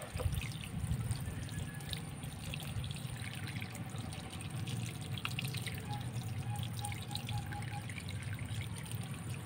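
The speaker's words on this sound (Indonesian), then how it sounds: "Kita bersihkan dengan air mengalir Pak" Water runs steadily from a tap or poured stream to rinse freshly caught water fleas, a continuous close splashing trickle with no talk.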